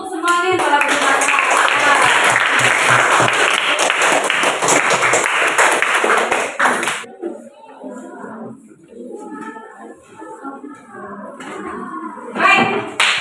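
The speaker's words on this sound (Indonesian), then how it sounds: "Dan itu minta kita semua tepuk tangan untuk semuanya yang telah berpartisipasi." Participants at an indoor teacher-training session clap together in a loud burst of applause that cuts off abruptly midway, followed by scattered voices and light movement.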